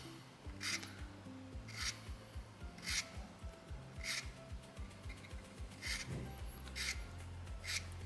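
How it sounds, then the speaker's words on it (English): A rasp's flat side files a soapstone owl carving, thinning the ears and forehead: close, steady back-and-forth scraping strokes in an even rhythm, with a low tonal background underneath. "I'm going to just use the flat side of my rasp"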